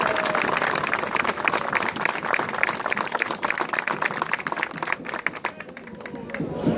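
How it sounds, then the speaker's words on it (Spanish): A crowd at an outdoor municipal event in Lima applauds, with dense, loud, sustained clapping that thins toward the end, while voices can be heard through it. "Un gran aplauso para todos ustedes."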